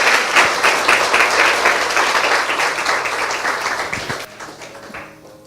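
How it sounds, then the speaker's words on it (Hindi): A congregation at a Christian sermon gives Jesus loud, dense applause that stays strong for several seconds, then thins out and fades to scattered claps at the close. "आइए यीशु के लिए एक जोरदार ताली बजाएं।"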